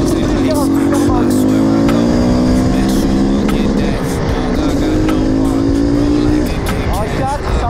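A 500 CR supermoto motorcycle engine drones loudly and steadily up close while riding, its pitch rising and falling gently through gear changes, with some faint talk at points.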